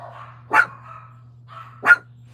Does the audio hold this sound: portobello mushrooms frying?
no